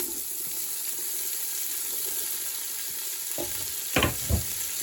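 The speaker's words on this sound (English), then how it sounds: "I'm about to put in my vegetables. And I'm just going to sear these vegetables." Celery, garlic and onions searing in a pan for shrimp jambalaya give a steady hiss of sizzling, followed near the end by a couple of sharp clinks and scrapes from stirring.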